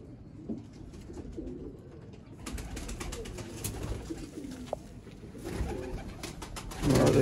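Soft cooing from pigeons kept by a breeder, including a breeder female, rises intermittently over a quiet background, with a louder rustle or flutter at the very end.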